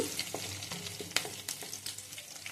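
Onions and green chillies sizzle in hot oil in a kadai, a close, crackling fry broken by bursts of stirring scrapes, with no one speaking.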